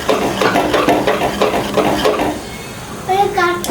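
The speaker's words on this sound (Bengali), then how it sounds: "বেসন দিছি, ময়দা দিছি, তারপরে এই যে মরিচের গুঁড়া, হলুদের গুঁড়া, লবণ, একটু আদা বাটা, রসুন বাটা, ডিম দিয়ে সুন্দর করে এটা গোলাই নেব" Batter of gram flour, wheat flour, chili powder, turmeric, salt, ginger and garlic paste and egg stirred in a bowl with rhythmic wet scraping strokes, while a child and an adult talk over it.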